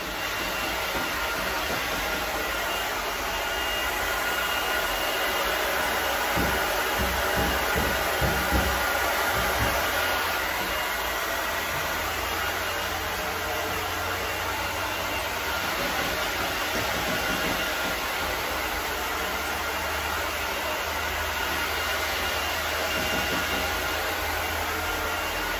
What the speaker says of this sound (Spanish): Vamos a secar un poco con otro equipo indispensable y fundamental para la aplicación de la acuarela, que es el secador de cabello